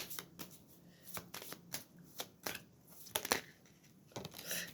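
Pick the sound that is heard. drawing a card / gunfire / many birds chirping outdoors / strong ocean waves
drawing a card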